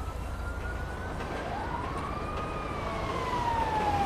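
Ambulance siren in the police game LSPDFR, a steady wailing tone that rises and falls as the vehicle arrives, growing slightly louder over a low rumble of traffic, with no talk.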